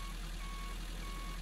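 A truck's reversing alarm beeps in the construction video game Giant Machines 2017, a steady tone over a low idling engine hum, fairly quiet with no talk.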